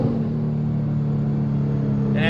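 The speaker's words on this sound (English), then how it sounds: "I'm going to floor the gas, you'll hear the turbos come up" A Nissan R35 GT-R at full throttle on a dyno, a steady loud engine drone with rising turbo whine building toward the end, sustained and close throughout.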